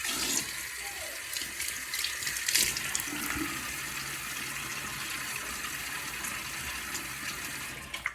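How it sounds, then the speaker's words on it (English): Tap water gushes steadily into a sink for wetting the face before a shave, a close, continuous splashing stream that lasts throughout with no talking. "Let me get my face wet."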